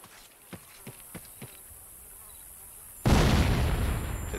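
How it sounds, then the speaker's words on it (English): A grenade blast in the Vietnam War shooter Vietcong erupts as a sudden loud, broad boom that lingers, following a few faint distant gunshot-like pops. "Let's try a grenade here."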